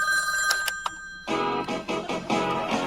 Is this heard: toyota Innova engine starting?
no